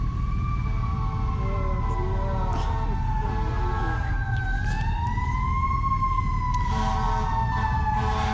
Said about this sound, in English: We passed the fire station, if you noticed, and now the fire trucks